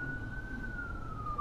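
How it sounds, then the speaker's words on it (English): A single siren wails from a distance, one long steady tone slowly sliding lower, faint beneath a low rumble of background noise. "Sorry for the sirens going outside."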